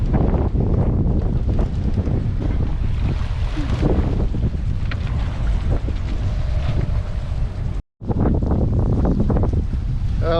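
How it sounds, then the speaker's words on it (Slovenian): Strong wind roars and gusts around a sailboat anchored at sea as tropical rain begins, a loud, continuous, buffeting rush, with a brief dropout near the end. "Evo, že kar precej piha"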